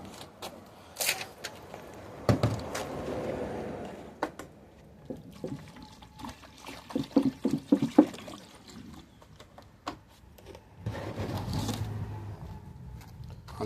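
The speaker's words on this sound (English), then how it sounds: "I want to put some cool water in this bowl." Cool water poured into a bowl while preparing stewed salt fish, quiet splashing bursts broken by soft clinks and clatter, with a longer pour near the end.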